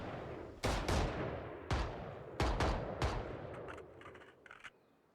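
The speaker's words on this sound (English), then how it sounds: "They should know that's both players with the gunfire." Tactical shooter Valorant gunfire during a tournament match: several sharp, loud shots in uneven bursts, some doubled close together, followed by quieter clicking shots as the echoes fade.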